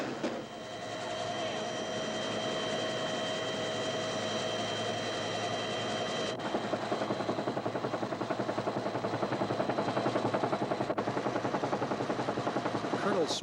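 A battalion commander's helicopter in the Vietnam War, 1969, drones with a steady rotor chop that turns more rhythmic and pulsing partway through, sustained and fairly loud throughout.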